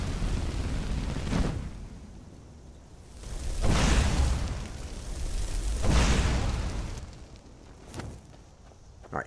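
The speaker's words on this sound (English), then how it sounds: "That's Ultimate HD fire effects." Burning fire effects in Skyrim with the ELFX mod, whooshing flare-ups that swell and fade in slow waves over a low crackling rumble.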